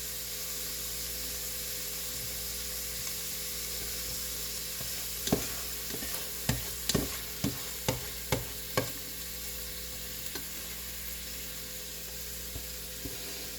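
Mushrooms fry in a pan with a steady, even sizzle, joined midway by a run of sharp utensil clicks and scrapes against the pan as they are stirred.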